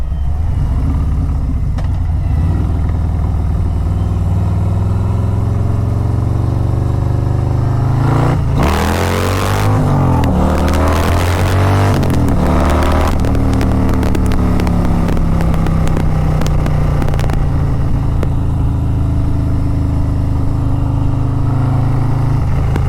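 A Harley-Davidson Road Glide motorcycle on the move, its deep engine rumble steady and loud the whole way through, rising in a surge of throttle midway before settling back into a low cruising drone.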